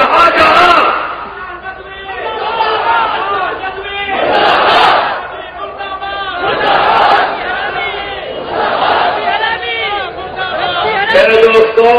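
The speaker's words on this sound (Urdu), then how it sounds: "میرے دوستوں نعرے بہت لگا دیے تم نے" A large crowd chants slogans in loud, rhythmic waves of shouting voices, surging and ebbing several times over the stretch, close and dominant.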